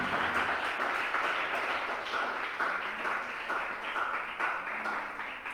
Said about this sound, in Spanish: Dale un aplauso al Espíritu de Dios.